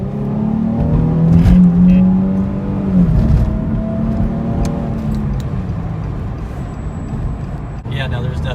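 A Nissan 350Z with a cold air intake accelerates on the interstate, its engine note rising steadily in pitch under a loud cabin drone, with a voice speaking over the engine.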